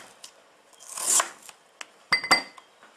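A knife slicing thin sections on a cutting board in a home kitchen, a few crisp, close cuts and taps spaced irregularly, including a quick cluster of sharp strokes near the end.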